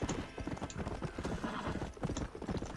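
Horse hooves clip-clop steadily and close in the Red Dead Redemption video game, a quick continuous rhythm of hoof strikes with a brief whinny-like tone mixed in.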